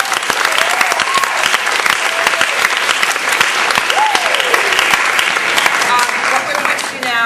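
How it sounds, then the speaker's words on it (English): Audience at a drama festival clapping together: steady, loud, dense applause with scattered whoops and whistles rising over it, sustained throughout. "let's just clap"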